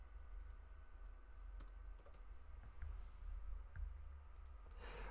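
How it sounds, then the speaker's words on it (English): Light typing on a computer keyboard, soft irregular key clicks over a steady low hum, faint and close, without speech. "We're just doing a little mild typing here"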